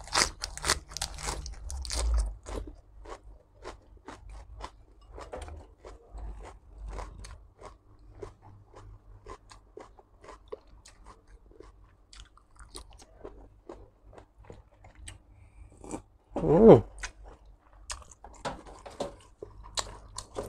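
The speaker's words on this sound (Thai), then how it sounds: "กรอบกระดูกอ่อนหู" Crunching bites of crispy ear cartilage from Thai-style braised pork leg, a dense run of close, dry crackling chews with one louder crunch burst near the end and no talk.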